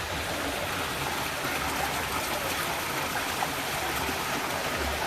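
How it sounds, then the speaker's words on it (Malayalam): Water pours steadily out of a koi pond filter in a close, constant rushing and splashing flow with no break or change in level. "ഈ വെള്ളം ഔട്ട് ഫിൽറ്ററിൽ നിന്നും വരുന്ന വെള്ളത്തിൻ്റെ ഔട്ട് ഒരു റൊട്ടേഷൻ ഉണ്ടാവുകയാണ്"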